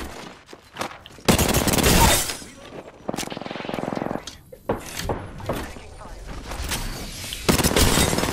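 Rapid video-game gunfire cutting down an enemy, with dense bursts of automatic shots and single cracks in quick succession, loud and close, alongside a player's voice talking between bursts.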